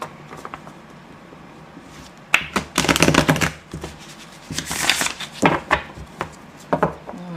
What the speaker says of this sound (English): I'm going to leave you with a shuffle